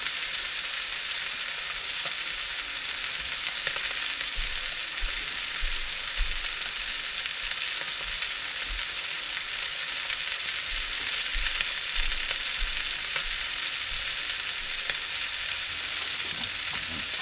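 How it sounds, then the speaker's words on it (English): A beef roast sears in a hot pan, giving a steady, close, loud sizzle that hisses without pause, with faint low bumps now and then. "So while that's going on, we're doing this sear."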